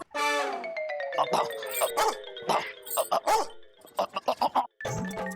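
A dog barks repeatedly and excitedly in a TV comedy scene, with quick bursts over musical tones and background sound.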